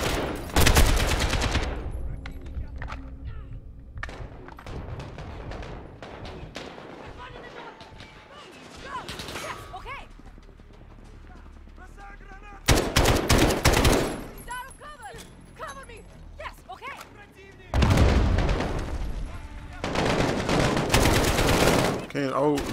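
Bursts of AK rifle fire in Call of Duty Modern Warfare, rapid loud automatic volleys separated by quieter stretches of game sound and a voice talking.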